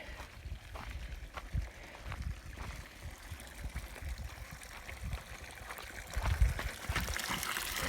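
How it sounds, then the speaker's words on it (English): Tap water runs steadily at an off-grid homestead in Portugal, a continuous trickling pour with small splashes, fairly close, with no talk over it. "Turn the tap of water on."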